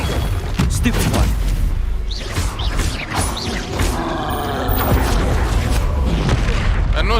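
Spell blasts and explosions from the Hogwarts Legacy video game, heavy booms and crashing impacts hitting repeatedly over a loud, busy mix, with a voice shouting spell names through the action.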